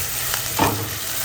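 Sliced onions soften in a hot pan on the stove with a loud, close, continuous sizzle, broken by a brief scraping stir in the middle.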